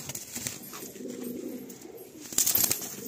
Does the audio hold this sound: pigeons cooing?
yes